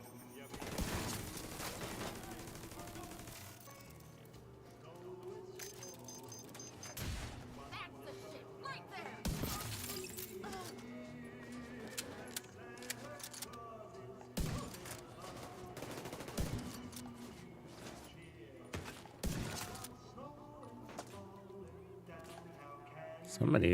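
Gunfire rings out in The Division 2 during a firefight in New York, with repeated loud shots and bursts, some close and some distant, mixed with game effects and someone talking.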